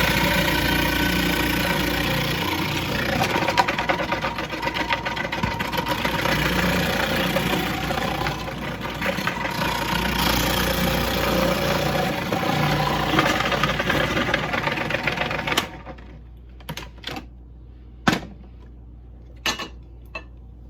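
A food processor shreds peeled, washed carrots for carrot cake with a loud, steady motor whir and rattling for about fifteen seconds. It then stops, and a few clinks and knocks follow.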